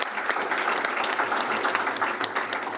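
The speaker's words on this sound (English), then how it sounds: "Let's give her a round of applause" An audience at a swearing-in ceremony applauds, producing dense, steady clapping from many hands that holds evenly throughout, fairly close and with no voices over it.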